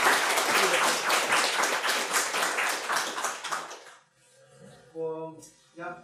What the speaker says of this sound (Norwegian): Og vi kunne klappe for i hånden.